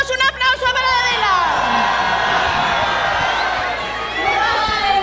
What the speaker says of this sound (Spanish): Vamos, un aplauso para Adela